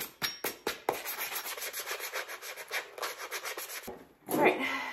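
Hand sanding with coarse sandpaper, a quick series of rasping back-and-forth strokes, close and fairly faint, ending in a brief louder scrape.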